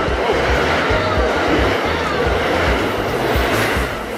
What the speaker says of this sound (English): The sign almost got taken away by the train.